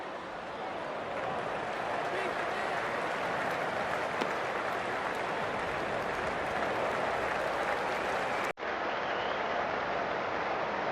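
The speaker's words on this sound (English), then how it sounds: "they'll receive a warm reception from the crowd" Crowd applause in the Cricket 24 video game after an Afghanistan batter's dismissal in a South Africa vs Afghanistan semifinal, a steady broad wash of clapping and cheering that stays loud throughout with a brief cut near the end.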